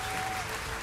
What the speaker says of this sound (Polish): Nie słychać cię, bo brawa cię zagłuszają.